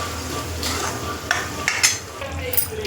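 Mutton sizzles in spice masala in a pan while a utensil stirs it, giving a soft steady fry with a few sharp scraping clinks, fairly quiet and close.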